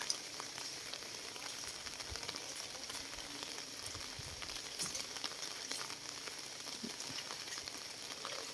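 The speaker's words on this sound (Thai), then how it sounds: "คือฝนตกนะฮะ นี่ก็เป็นอย่างนี้เลย" Steady light rain patters on a surface, a soft continuous crackle of drops with no voices, even and unbroken throughout.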